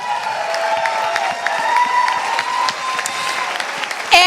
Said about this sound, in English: So please give Patty another round of applause.